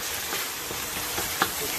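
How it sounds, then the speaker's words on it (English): Garlic sizzling in a frying pan while a vegan courgette, aubergine and okra curry is cooked from scratch, a steady close hiss with faint crackles and one brief sharper pop near the end. "Sizzle the garlic"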